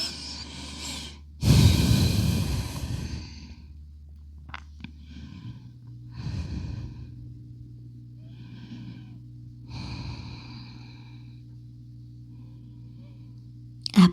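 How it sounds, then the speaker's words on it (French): Deep breathing during a back-focused yoga session, a few slow audible inhales and exhales close to the mic, the first strongest, fading to softer breaths with quiet gaps between them. "on va prendre 3 profondes respirations"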